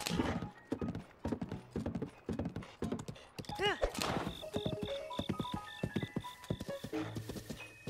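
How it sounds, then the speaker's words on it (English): Video game horse in Zelda: Breath of the Wild galloping with rapid, steady clip-clop hoofbeats, a neigh partway through and chiming game tones layered over it. "this is like the fastest horse in the game"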